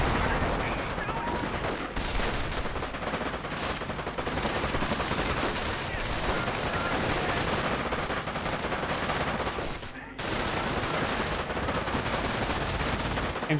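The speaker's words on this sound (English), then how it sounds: "MG42 gets a bit of push there, fires it on up, engage the MG42" Sustained, dense automatic gunfire from a German MG42 machine gun in the World War II strategy game Company of Heroes, firing continuously and loud with a brief lull near the end, mixed with other battle noise.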